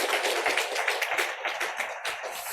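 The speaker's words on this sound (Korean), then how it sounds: "우리 박수로 한번 격려하겠습니다" A church congregation claps during a Sunday service, a soft, steady patter of many hands heard at a distance, even and unbroken throughout.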